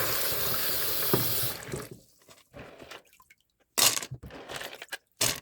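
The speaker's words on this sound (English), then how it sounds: "Now you want to rinse the beans" Running tap water gushes steadily while white beans are rinsed in a kitchen sink, then breaks into shorter intermittent splashes and trickles as the flow is stopped and restarted.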